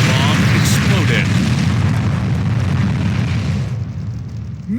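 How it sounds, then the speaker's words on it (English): A bomb explodes in the shooter game Point Blank. The blast gives a loud, close boom that rumbles on for several seconds before slowly thinning out. "Bomb exploded."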